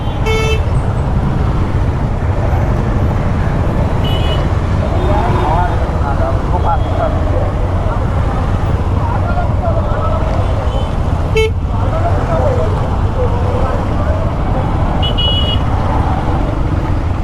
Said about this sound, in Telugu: వీళ్ళ వల్ల ట్రాఫిక్ మొత్తం జామ్ అయింది